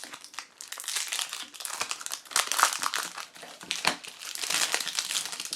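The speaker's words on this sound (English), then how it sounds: "Now let's go ahead and open up the packet." Biodegradable film wrapping on a fairafric 80% dark chocolate bar crinkles and crackles as it is handled and torn open, a close, busy run of dry rustling and crunching bursts.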